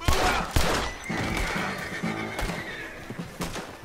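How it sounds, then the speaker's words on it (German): A horse in Red Dead Redemption II whinnies loudly and up close, a high wavering neigh with hoof clatter and game ambience around it. "Wo ist mein Pferd, wo ist mein Pferd?"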